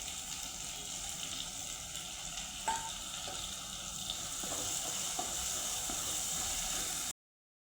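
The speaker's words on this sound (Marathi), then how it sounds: "मसाले आपले छान परतलेले आहे" Tomato and dry spices sizzle steadily in a pan with peanuts, a continuous close fry with soft stirring clicks scattered through, cutting off near the end.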